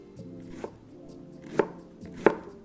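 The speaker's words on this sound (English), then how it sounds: "we are going to hand chop the cabbage with a knife" A knife chops cabbage by hand on a board for coleslaw: three distinct, fairly quiet thuds spaced unevenly, with nothing else around them.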